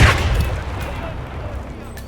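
A single loud gunshot sounds in the Hitman 2 video game, a sharp close blast at the start that decays into a low rumbling tail.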